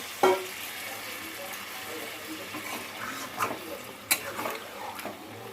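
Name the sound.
water added to chicken sizzling in a pan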